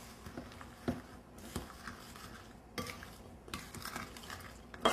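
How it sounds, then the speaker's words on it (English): A spoon stirring sugar into cherry pie filling in a bowl, with soft wet swishes and occasional clinks against the bowl in irregular strokes, close and fairly quiet. "So now you're going to stir it all up."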